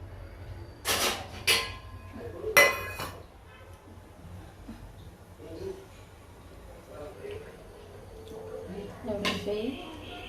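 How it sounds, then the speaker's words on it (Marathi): Rice pressure cooker being set up in a home kitchen, with sharp metallic clanks of the pot and lid, a few clinks and handling noises spaced out under someone talking. "आता मी भात कुकर लावणार आहे"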